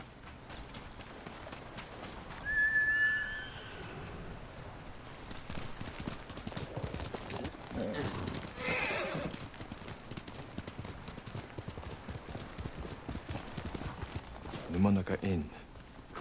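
Clip-clopping hooves beat steadily while a horse lets out a brief whinny in the video game Ghost of Tsushima, with talking over much of it.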